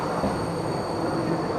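Steady rumble of a regional train running, heard from inside the carriage, a continuous close broadband roar with no clear rhythm.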